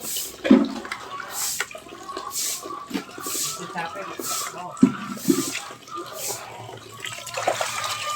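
Running tap water splashes over dishes being washed by hand in a home kitchen, with intermittent clinks and bursts of flow, while someone talks over it.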